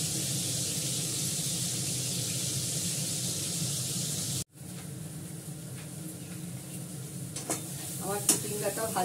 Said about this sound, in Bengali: আমার চিচিঙ্গাটা ভাজা হয়ে গেল